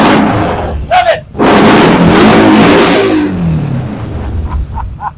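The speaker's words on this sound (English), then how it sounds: "Rev it up. Rev it. Rev it." A Yamaha XS650 chopper motorcycle engine is revved up in a garage, giving a loud close roar that swells and holds. Excited voices shout over it near the start and end.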